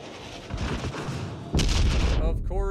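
Enemy warship gunfire in World of Warships Legends, a rumbling salvo followed by a sharp, loud boom and heavy roar, close and forceful, with some voice-like sounds mixed in near the end.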